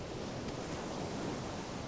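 Sea waves and wind rush past a sailing ship in Final Fantasy XIV, a steady broadband wash of surf and gusting air at moderate level without pause or talk.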